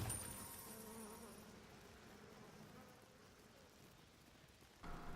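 A swarm of bees from a honey ability in the video game Smite hums as a steady, faint buzzing drone through the whole stretch, with a brief louder burst at the very end.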